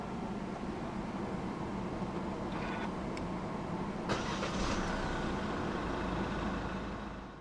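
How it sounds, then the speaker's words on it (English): A 2016 Kia Sorento 2.2 CRDi diesel is started by push button, a brief starter whir giving way to a steady, muffled idle hum that continues quietly. "Put your foot on the brake and press the start button to the left of the steering wheel."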